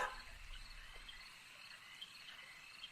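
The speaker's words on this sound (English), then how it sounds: "The sounds of bugs and crickets at night actually makes for a pleasant atmosphere." Night-time insect ambience from a video game, with crickets and bugs chirping in a steady, soft high-pitched drone that continues evenly throughout, faint and unbroken, with no speech.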